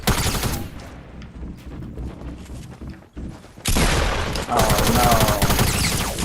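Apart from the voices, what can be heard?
gunfire in a video game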